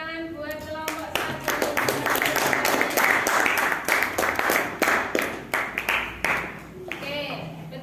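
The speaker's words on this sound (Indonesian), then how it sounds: "Beri tepuk tangan buat kelompok 1" Classroom applause for a student group rings out as a dense burst of many hands clapping, loud and close, with voices chattering underneath.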